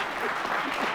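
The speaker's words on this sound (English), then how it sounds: "Let's have a nice round of applause for them." A studio audience applauds a visiting quiz team from Oregon on a high school quiz game show, a short burst of moderately loud clapping from a crowd, with faint voices mixed in.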